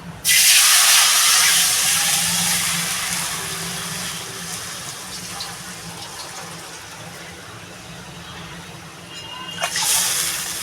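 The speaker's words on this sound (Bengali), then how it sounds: "এবার আমি এই যে কড়াইটাতে জল দিয়ে দেবো" Water poured into a hot wok after frying hilsa fish, bursting into a loud, broad sizzling hiss that slowly dies down, then flares briefly again near the end.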